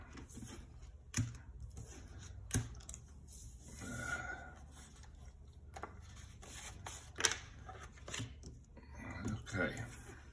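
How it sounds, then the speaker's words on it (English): Strat-O-Matic baseball game cards handled and shuffled at a table, scattered close flicks and taps with a few sharper snaps, voices murmuring faintly between them. "Cards are difficult to handle."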